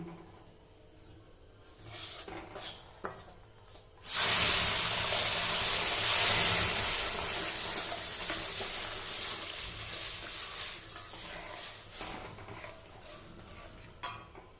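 Milk poured into roasted semolina in a hot pan bursts into a loud, steady sizzling hiss that slowly fades, after a few faint clinks and stirring sounds.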